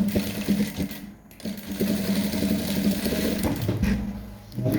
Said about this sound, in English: You stitch across to join to the other end as well.